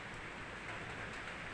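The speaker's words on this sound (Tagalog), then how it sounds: "bumalik na naman yung ulan" Steady rain falls on a Monday morning after a heavy overnight downpour, a dense, even hiss that stays constant and fairly close throughout, with no voices.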